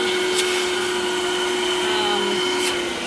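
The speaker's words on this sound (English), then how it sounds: "this vacuum is amazing" A Desiderio Plus steam cleaner vacuum runs steadily at close range, a loud continuous motor whine with a constant high tone and airflow hiss throughout, no voices.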